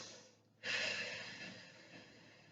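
A single breath during a gentle yoga flow, a soft exhale that swells suddenly and fades slowly, close and quiet with no talking.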